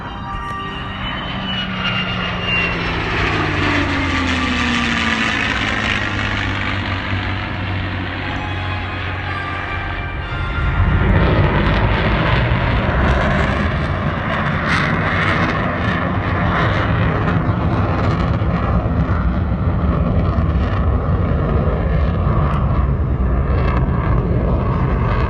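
An F-35A fighter jet at the New York Air Show, first a rising, shifting whine from a passing jet, then a loud, steady engine roar that fills the rest of the recording with no talking.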